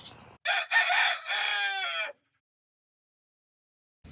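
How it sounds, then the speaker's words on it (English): A chicken in Alaska gives a loud, close, drawn-out crowing call after a brief opening squawk, then falls silent. "We've spotted an elusive Alaskan chicken."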